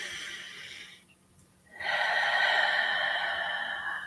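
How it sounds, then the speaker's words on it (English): A deep breath drawn in during a guided evening prayer, heard as a long, soft, breathy rush that pauses briefly and then swells again, fairly close and steady. "Take a deep breath in."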